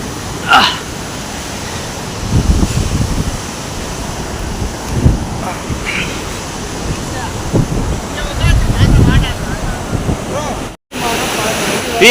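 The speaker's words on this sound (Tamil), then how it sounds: "ஃபால்ஸை கிட்டத்துலேருந்து பார்க்கும்போது இப்படி தான் தெரிஞ்சது." Steady broadband rush of falling water at Bikkanappalli Falls near Krishnagiri, India, with louder surges now and then and a brief dropout near the end.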